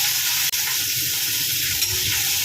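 Curry leaves, green chilli, onion and tomato sizzle loudly together in a pan, a steady close frying hiss with light stirring scrapes and one sharp click early on, no voices.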